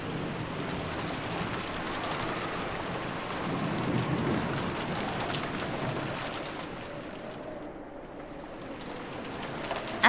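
Steady heavy rainfall patters continuously in a rainy rose garden setting of the Umineko no Naku Koro ni visual novel, a dense hissing downpour with a low rumble swelling midway.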